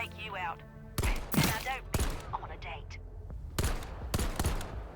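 Gunfire in the video game Exoborne, heard as several sharp, loud shots in short clusters, spaced with gaps, while a person talks between them.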